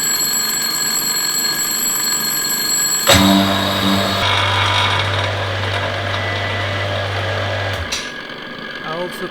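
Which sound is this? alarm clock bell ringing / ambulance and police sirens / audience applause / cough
alarm clock bell ringing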